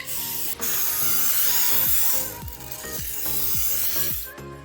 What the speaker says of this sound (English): we are gonna spray this one with olive.